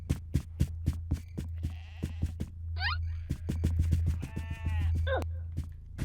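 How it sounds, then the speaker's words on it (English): Meeps bleating in the Oddworld Munch's Oddysee video game, with several sheep-like bleats over a steady low hum and a run of regular clicking game sounds. "This is how you herd Meeps, Munch"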